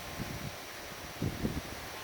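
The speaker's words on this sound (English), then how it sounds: "That's a big gust that time." Strong wind gusts of roughly 45 to 50 mph in Kentucky, left over from a derecho, buffet the microphone as low rumbling bursts. The strongest surge comes about midway through the clip over a steady background hiss.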